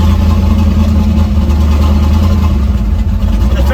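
An old truck's engine runs with a loud exhaust, a steady low rumbling idle with a throaty drone that holds constant, close by, with no talk over it.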